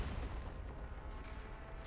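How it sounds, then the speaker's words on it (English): Game combat in Reverse: 1999 with a continuous low, rumbling barrage of explosive booms, steady and dense throughout, like distant artillery with no clear single blast standing out. "There's a sudden ear-splitting pop, followed by a thundering explosion as rocks splatter across her armor."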